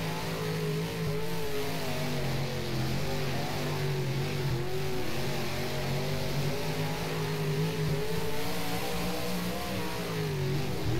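Street stock race car in the rFactor racing game at East Bay, its underpowered engine droning steadily near flat out throughout, with a continuous loud tonal hum and slight pitch wavering into corners, alone without talk.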